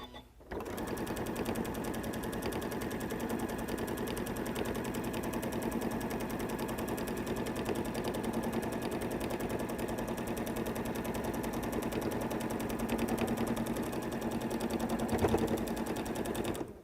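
A sewing machine stitches a fabric placemat in one steady, rapid mechanical chatter, running close and constant for about sixteen seconds before stopping, with no voices.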